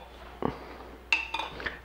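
A small pot is handled on a kitchen counter while preparing a salad dressing, producing a few light clinks and knocks of crockery and utensils: one soft bump, then a brighter ringing clink followed by two fainter taps.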